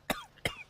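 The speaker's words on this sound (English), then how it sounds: "You have a severe cough." Two sharp, harsh coughs in quick succession from a person with a severe cough, each a brief loud burst, close and alone without any talking.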